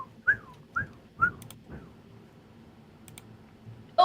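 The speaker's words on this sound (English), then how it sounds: "I whistle to hear the reverberation." Whistling inside a high cavern with stone pillars, stalactites and stalagmites: three or four short rising whistles spaced about half a second apart, each trailing off into faint echo, then a couple of light clicks.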